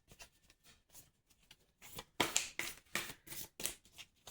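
Oracle outcome cards shuffled by hand, quiet and close, a run of brisk riffling bursts growing louder toward the end.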